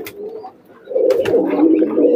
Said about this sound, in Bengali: চমৎকার আরো একটি কবুতর,